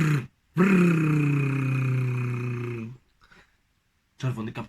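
A voice imitates a wolf's growl as a long, loud, throaty rumble lasting a couple of seconds, followed by a pause and a brief second vocal sound.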